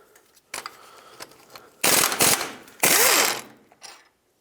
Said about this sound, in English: at this point I'm going to take off these two bolts